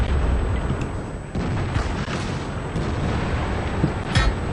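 Tank cannon fire from the World of Tanks video game crackles and booms in a dense, loud barrage, with repeated sharp blasts over a continuous rumbling battle din.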